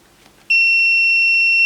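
Mustool MT8206 graphical multimeter in continuity test mode: after a brief quiet, a single loud, steady high-pitched beep starts suddenly and holds unbroken to the end.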